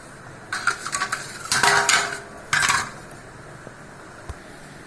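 Spoon scraping and clinking around a metal pot while a sweet mixture with ground cardamom is stirred, several bursts of close scraping and clatter, then a few quiet taps.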